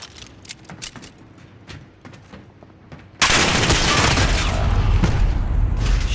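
A shooter video game gunfight begins with scattered clicks and small bangs, then a sudden, loud, sustained barrage of gunfire and explosions fills the rest of the clip.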